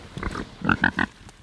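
A few short, close grunts from pigs in a backyard pen, a quick run of three or four snorting oinks with no talk.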